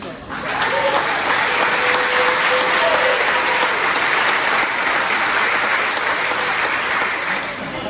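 Wedding guests in Chelsea, Michigan give the newlyweds a loud, sustained round of applause that swells quickly and carries on for several seconds, with voices faintly mixed into the clapping.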